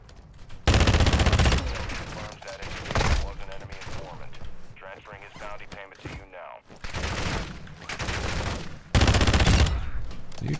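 An automatic gun fired at AI enemies in Call of Duty DMZ: several loud, close, sustained bursts of rapid gunfire, separated by quieter stretches with someone talking between them.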